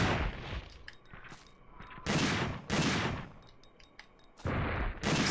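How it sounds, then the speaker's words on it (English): A shotgun firing in the Dino Crisis video game sounds as a series of loud, close blasts, roughly five or six booming shots with short echoing gaps between them. "Also, this shotgun has some mad range."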